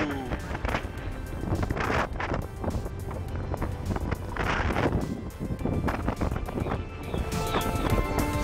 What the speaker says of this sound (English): It's windy, it's wet